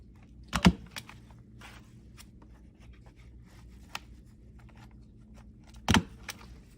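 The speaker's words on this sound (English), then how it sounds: "I'm going to fold it over and then fold it up and just staple it right here to the front of Lucy's dress" A stapler punches through folded paper on a paper doll's dress during a children's craft session, making two sharp, loud clicks several seconds apart over a quiet room background.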